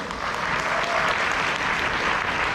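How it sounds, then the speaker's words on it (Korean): Seminar audience at a network-marketing company event at a resort applauding, a dense, continuous wash of clapping that stays loud and even for the whole short stretch. "박수 한번 쳐주세요."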